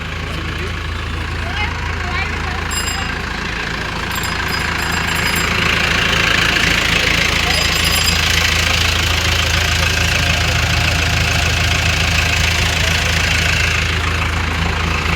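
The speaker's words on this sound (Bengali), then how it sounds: "এই যে আপনার 2424B ক্যাটের জেসিবি চলে এসেছে, বিশাল শক্তিমান জেসিবি" A CAT 2424B JCB backhoe's diesel engine rumbles and knocks steadily close by, its low drone growing slightly louder as the machine arrives, with a voice talking over it.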